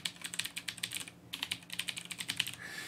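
An email address being entered on a computer keyboard, quick bursts of light, crisp key clicks in an uneven rhythm with one short pause partway, close and fairly quiet with nothing else audible.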